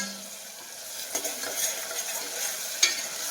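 Khichdi ingredients and peanuts mixed in a pot, soft sizzling under light scraping stirs and an occasional spoon tap, quiet and close with no talk.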